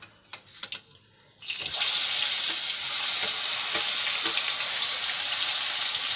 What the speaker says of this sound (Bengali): এবার দিয়ে দেবো এই যে কালো জিরে, মিনিটের মতো হলে তারপরে দিয়ে এই যে পেঁয়াজ ঘষাটা।